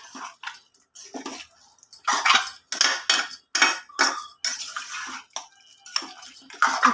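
Mutton curry with ginger garlic paste and turmeric is stirred in a pot, producing a string of close, irregular metallic scrapes and clanks of a spoon against the vessel, with short gaps between strokes.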